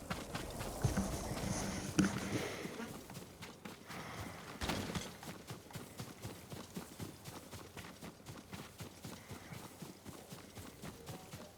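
Horse hooves clip-clop at a steady walking pace in Ghost of Tsushima, close by, over a soft ambient bed, with a brief rustle partway through and no talking.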